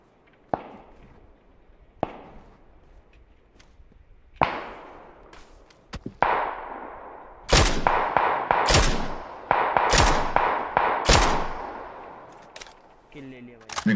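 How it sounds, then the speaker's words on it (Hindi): Gunfire in PUBG on the Erangel map: scattered single shots early, then a run of loud, sharp reports in quick succession, some near and some distant, with faint voices in the background. "कहाँ से कंटिन्यूअस फायर आ रहा है।"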